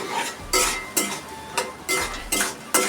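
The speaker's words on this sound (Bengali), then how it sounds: "একটু নেড়ে ছেড়ে দিই" A spoon scrapes and knocks against a pot as baby pigeon meat curry is stirred, giving about six sharp, regular strokes close by with a faint sizzle underneath.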